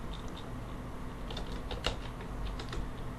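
Numbers are entered on a computer keyboard, a handful of light, quick key taps spread unevenly over a soft room hiss, close and fairly quiet.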